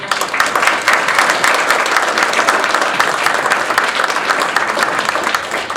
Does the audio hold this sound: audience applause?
yes